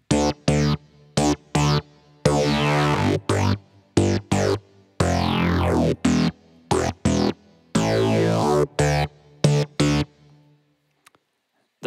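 Layered synth bass for a song cover in MainStage, playing a series of loud, gated notes with resonant filter sweeps, separated by sharp silent gaps, then ending in near silence.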